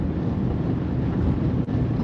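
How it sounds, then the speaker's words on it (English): Strong wind buffets a microphone outdoors during a driving lesson on a busy street, a steady, loud, low roar with no break except one brief dip, no talking. "It's very windy out here."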